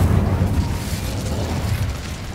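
An Incendio fire spell in Hogwarts Legacy erupts as a loud, close burst of roaring flame, a dense rumbling whoosh that holds for about two seconds and then eases slightly.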